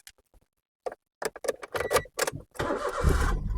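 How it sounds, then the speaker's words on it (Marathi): A used car's engine cranks and starts, a few short clicks and bursts giving way to a steady, close idle rumble that runs to the end. "ही गाडी स्टार्ट केली बघा, एकदम स्मूथ आहे बरोबर आहे."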